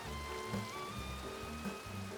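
Steady rain falls in the zombie mode of Red Dead Redemption 2, a soft, continuous hiss of drops laid over a low, rhythmic musical drone, quiet and even throughout.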